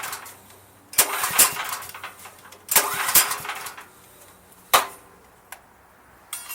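Ryobi 5500-watt 420cc generator with a carburetor fault, struggling to start: two rough cranking bursts, then a few sharp single pulls, none catching into a steady run.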